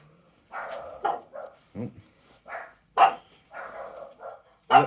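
Several dogs bark in short, loud bursts at a caller at the door, with a handful of sharp yelps spread across a few seconds and brief gaps between volleys.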